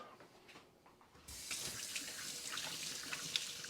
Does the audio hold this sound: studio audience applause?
no